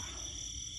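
Frogs croaking in the Thai countryside after rain, a dense continuous chorus with a low rumbling texture, steady and moderately distant, no voices.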